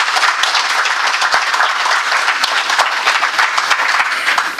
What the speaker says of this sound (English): We should give them a big clap.